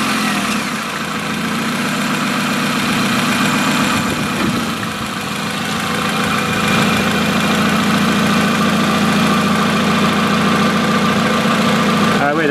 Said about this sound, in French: Voilà, démarrer le moteur.